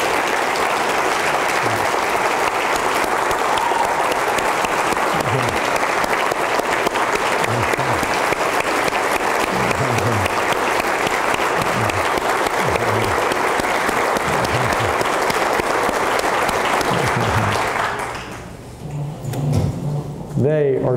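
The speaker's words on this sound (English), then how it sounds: "We need to give you guys a round of applause." A large room claps loudly and continuously in applause for first responders, with scattered shuffles and knocks as people stand, before the clapping cuts off near the end and a voice begins speaking.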